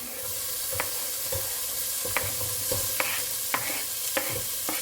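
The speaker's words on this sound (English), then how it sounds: "I'm going to add in the chopped capsicum" Chopped capsicum stirred into onions frying in a pan gives a continuous close sizzle broken by regular spatula scrapes and taps, about one each half second.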